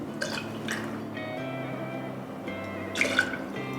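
Lime juice, fresh white grapefruit juice and honey syrup trickle and splash into a cocktail shaker in a few short, close pours, with faint dripping between them.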